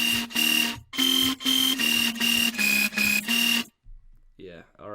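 Buzzy low-pass-filtered synth bass without delay, in the style of Odd Prophet, hits in eight loud, evenly spaced stabs, then cuts off abruptly to a brief faint tail.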